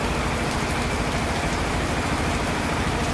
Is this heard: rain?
yes